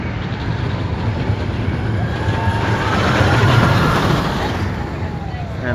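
A roller coaster train at Six Flags Great Adventure rumbles past outdoors, building to a loud roar midway before easing off, with people talking over it.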